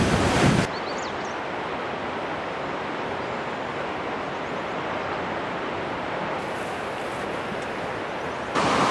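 Ocean surf rolls in as a steady, loud broadband roar of waves that holds for several seconds, with a harsher gusty burst at the start and again at the end, and no one talking.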